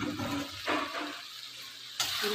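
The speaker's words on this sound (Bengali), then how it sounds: "পোস্ত বাটা জলটা দিয়ে দেবো" Watery poppy seed paste is poured into a pan holding chickpeas, a short gurgling, splashing pour heard up close for a couple of seconds with no voices.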